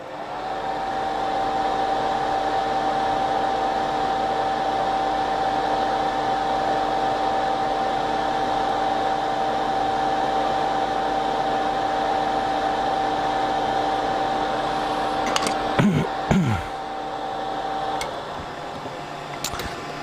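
A fume extractor fan runs at a soldering bench with a steady, close whir and a thin constant tone, broken by a brief clatter of handling near the end.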